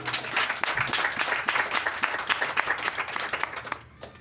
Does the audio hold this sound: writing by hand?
no